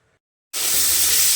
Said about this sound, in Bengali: এখানে সমস্ত এই যে সবজি পাতিগুলো ভাজা চলছে